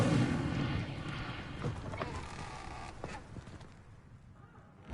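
A casting of the Incendio fire spell in Hogwarts Legacy bursts with a loud whooshing crackle up front, then trails into fainter rumbling, flickering game effects.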